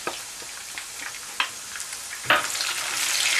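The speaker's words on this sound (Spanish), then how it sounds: "Ahora le vamos a echar el tomate." Tomato tipped into a frying pan of softened ingredients for meatballs, giving a few clacks and splashes followed by a rising, steady close sizzle.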